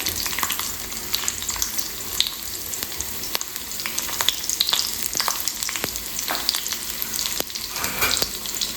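Small onions (shallots) frying in hot oil with a little fenugreek, a loud, close, continuous sizzle broken by scraping stirs and crackling pops.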